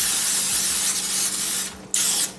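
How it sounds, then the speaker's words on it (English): Cooking spray hisses steadily onto a pan from close range, pauses briefly, then starts again with another short burst. "Spray my pan."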